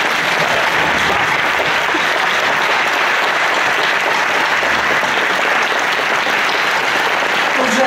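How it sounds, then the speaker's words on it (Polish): Loud, dense applause fills a hall at a mayoral candidates' debate, a continuous wash of many hands clapping at once that holds steady for the full stretch. "Wielkie brawa dla naszych kandydatów."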